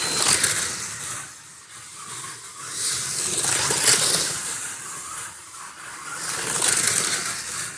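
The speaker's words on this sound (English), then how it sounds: "You can literally hear those back tyres screaming." A GT3 slot car runs laps around a slot track, its tyres giving a hissing, rasping whine that swells and fades in waves as the car passes close by, with no talk.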